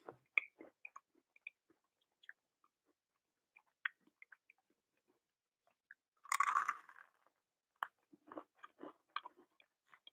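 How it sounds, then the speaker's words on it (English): Crunchy cake being chewed close up, scattered quiet bites and crunches with a louder burst of chewing midway, otherwise near silence. "This is crunchy."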